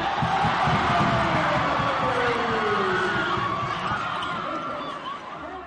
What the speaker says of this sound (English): she brought the crowd to its feet.